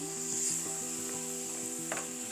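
Chicken with green chillies and pepper spice hisses in a pan with a steady, close sizzle, while a repeating musical tune plays underneath; nobody speaks.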